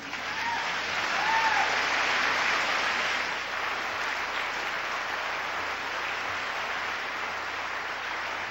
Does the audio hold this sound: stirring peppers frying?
no